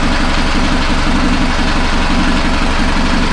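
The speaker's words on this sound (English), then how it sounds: "Running smooth, idling great." A loud engine idling steadily close by, a low continuous rumble with an even, pulsing rhythm and no voices.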